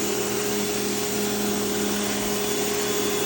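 Westinghouse ePX3500 electric pressure washer running steadily, a loud continuous broadband motor whine and spray hiss with a constant hum, no pauses or talk.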